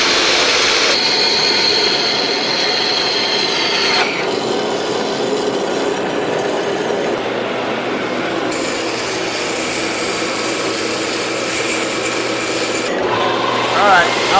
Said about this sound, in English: now we got a 36 grit on here.